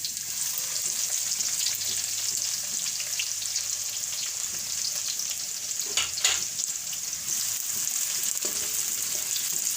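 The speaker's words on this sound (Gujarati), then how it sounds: "તો આપણે લસણ સરસ એકદમ સરસ લાલ થઈ ગયું છે તો હવે આપણે ડુંગળી નાખી દેવું" Onion and garlic fry in hot oil, a steady close sizzle and crackle filling the whole stretch, with occasional stirring scrapes.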